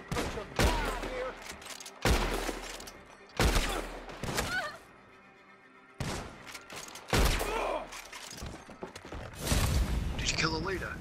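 Gunfire in Red Dead Redemption Online during a hideout raid: several loud bursts of rapid shots in separate clusters with short pauses between, close and punchy, with voices talking at times.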